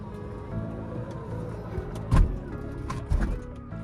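A 2023 Tesla Model X closes its doors and windows automatically with a steady low electric motor whir. Two soft thuds land near the end as the panels seat shut, heard up close in a quiet cabin.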